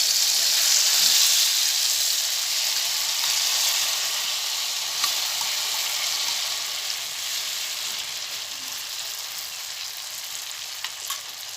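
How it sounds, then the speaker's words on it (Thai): Steady, close sizzle of a cha-om omelette frying in a pan, a continuous bright crackle that runs throughout with a few faint clinks and no voices. "เราจะมาทอดต่อนะคะ"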